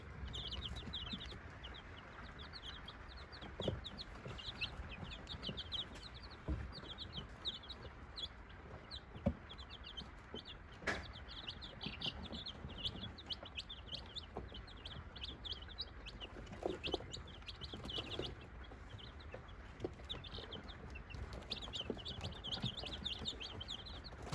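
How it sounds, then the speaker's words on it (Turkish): Continuous high chirping from many two-week-old chicks fills the space, with scattered soft clucks and rustling in the background. "Civcivlerimiz iki haftalık oldu."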